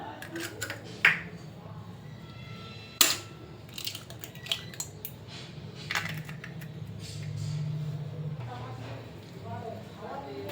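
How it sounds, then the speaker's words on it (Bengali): Three eggs are cracked into a bowl for a flour-and-egg snack, giving a few sharp, separate cracks and taps over low kitchen background noise. "একটা পাত্র নিয়েছি, এটা 3টে ডিম ফাটিয়ে দিয়ে দেব।"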